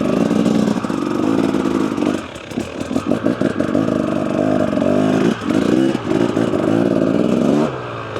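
A 2-stroke 300cc motorcycle engine runs loud and close, holding a buzzing idle, then blipping the throttle in quick revs with some rattling clatter before settling back.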